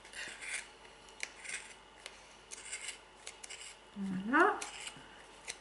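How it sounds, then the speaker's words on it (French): Sharp scissors snipping through wool yarn while making pompoms, a series of quiet, close crisp cuts and rasps at irregular intervals, with someone briefly speaking near the end. "On va continuer à découper. Donc surtout, prenez des bons ciseaux."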